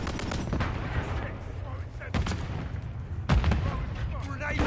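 Assault rifle fire in the Call of Duty MWIII multiplayer game: dense bursts of gunshots crackle steadily through the scene, with louder sharp volleys near the middle and end, while voices talk over the shooting.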